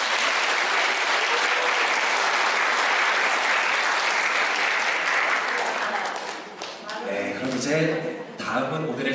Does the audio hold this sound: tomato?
no